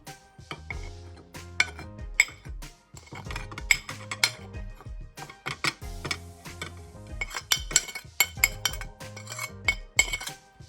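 Cayenne pepper and black pepper being mixed together for baked mackerel, heard as rapid, irregular clinks and scrapes of a utensil against a dish, close and distinct, with no talking.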